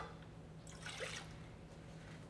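Vinegar poured from a measuring cup into a container to make taco pickled egg brine, a short liquid splash and trickle lasting about a second over a low steady hum.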